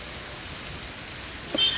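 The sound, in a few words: heavy rain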